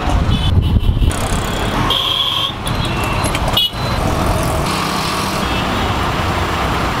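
An Uber auto rickshaw rides fast through busy Chennai traffic, with its engine and road noise droning loudly and constantly and surrounding vehicles passing close by.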